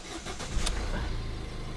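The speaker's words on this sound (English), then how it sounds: "we'll get the car started" A 2015 Ford B-Max engine cranks and catches after an oil service, a short burst of starter noise settling into a low, steady idle close by, no voices.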